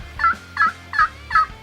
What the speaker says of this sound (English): We got turkeys in front of us.